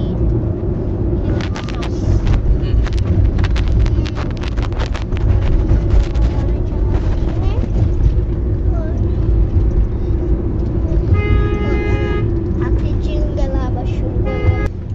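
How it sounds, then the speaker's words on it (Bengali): Busy traffic of cars, motorbikes and CNG auto-rickshaws crossing a bridge, a loud steady engine drone with repeated horn toots and honks, heard close while people talk over it. "এখানে অনেক গাড়ি, বাইক, সিএনজি"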